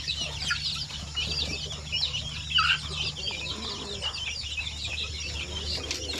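Chickens cluck and chirp at a backyard poultry farm, a busy overlapping flock murmur with scattered higher calls over a steady low hum, fairly close and continuous.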